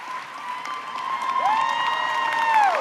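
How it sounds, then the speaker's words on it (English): Applause from an audience at a university commissioning ceremony for a new United States Army officer. Steady clapping builds slightly over a few seconds, with a sustained tone or chord ringing through it. "please join me in a round of applause for the newest officer in the United States Army"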